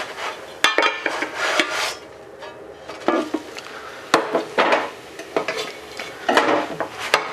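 Pescajoune cooking in a pan gives irregular knocks and scrapes as it is turned and shaken, a string of close clattering hits over a faint sizzle.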